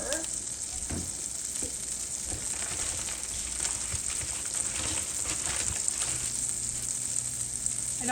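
Butter and flour sizzle steadily in a pan on the stove, a continuous close frying hiss with small crackles and occasional stirring clinks, with no talk over it.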